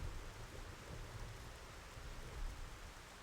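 Steady rain falling, a faint continuous hiss with a low rumbling undertone, unbroken throughout with no voices.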